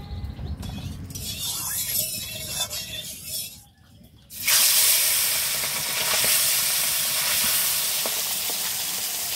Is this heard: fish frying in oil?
yes